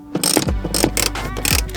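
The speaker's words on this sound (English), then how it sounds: "we're gonna start by removing these two bolts up here" Ratchet loosening 13mm seat bolts inside a Mustang GT, with several short bursts of rapid clicking close by and brief pauses between pulls.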